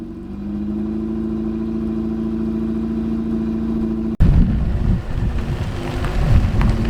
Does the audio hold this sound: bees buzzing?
no